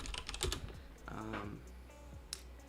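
Keys on a DZ60 computer keyboard are typed in short clicky bursts, first a quick flurry and then a few scattered taps, close and fairly quiet, with a voice briefly heard in between.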